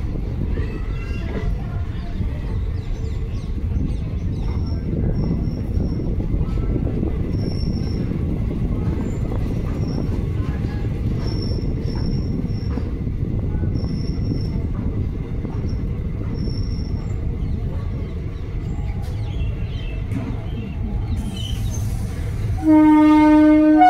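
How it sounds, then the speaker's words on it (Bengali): Rumble and rattle of a passenger train departing Azimganj Junction from platform 5, heard from on board, with wheels squealing through the run and a horn sounding near the end. "সিটি জাংশন প্যাসেঞ্জার ঠিক 4:10 তার নির্ধারিত টাইমে আজিমগঞ্জ জাংশন থেকে ছেড়েছে"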